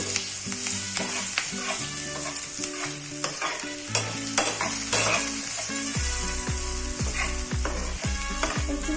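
Capsicum and onion fry in a pan for egg Maggi masala, with a continuous sizzle under brisk, rhythmic scraping and clattering of a spoon being stirred, close and fairly loud, with no speech.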